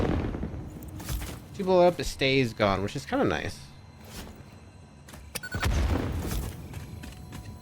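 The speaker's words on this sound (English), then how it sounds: "Explosions everywhere." Dynamite blasts go off in the Satisfactory video game, a few sharp booms with a longer rumbling burst near the end, while someone talks over them.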